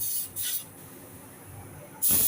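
A spray gun applies lacquer top coat to an Aston Martin sports car during paint repair, giving bursts of airy hiss: two short sprays at the start, a quieter stretch, then a loud, close blast at the end.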